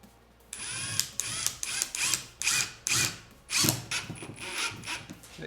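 A Ryobi brushless impact driver drives a screw in second gear, whirring up in short repeated bursts with rapid hammering impacts between brief pauses, close and fairly loud with no talking.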